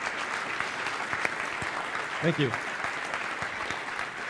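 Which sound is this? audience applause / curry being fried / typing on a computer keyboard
audience applause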